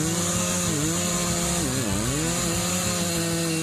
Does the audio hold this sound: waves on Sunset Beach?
no